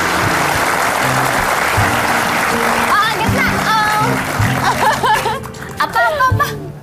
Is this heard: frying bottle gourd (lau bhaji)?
no